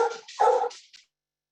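A dog barks during a Zoom hearing: a few short, close yaps and a whimpering bark over roughly a second, alone with no talk, then silence.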